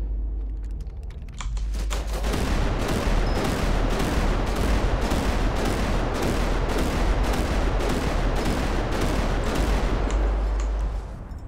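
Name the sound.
six-barrel gun firing in a video game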